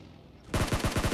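Rapid automatic gunfire in the mobile battle-royale game PUBG Mobile, about seven sharp, loud shots in a quick burst after a brief quiet lead-in.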